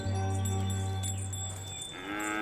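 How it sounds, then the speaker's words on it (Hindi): A buffalo gives one long, loud, close moo in a village setting, with no people talking. "अरे ये तो सिर्फ भैंस है, बफेलो।"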